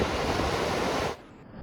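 Ocean surf crashing on an eroding Outer Banks beach in North Carolina: a loud, steady broadband wash that drops off abruptly after about a second to a quieter hiss.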